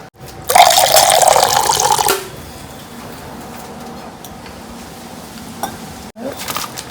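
Drinking water is poured at home in a burst of about a second and a half, loud and close, followed by quieter room sound with birds cooing nearby.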